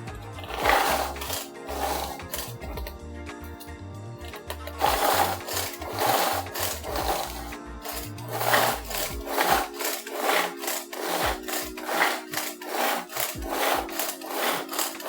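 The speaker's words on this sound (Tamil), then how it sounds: "இப்போ சாப்பரில் வந்து இந்த மாதிரி பொடி பொடியாக எடுத்தாச்சு." A kitchen vegetable chopper works carrot and curry leaves into fine pieces, giving repeated rough grinding and scraping bursts in an uneven rhythm, close and moderately loud, with no talking.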